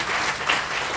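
A brief burst of dense, even audience applause at Old York Cellars, a continuous wash of many hands clapping at fairly close range.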